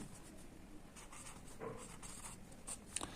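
A pen scratches softly across paper while an answer to a math problem is written out, a faint, close scribble with a few small taps and no talk.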